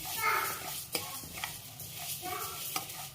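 Ingredients for venpongal roast in a pan over a low flame while being stirred, giving a steady sizzle with soft scraping strokes and occasional light taps of the utensil.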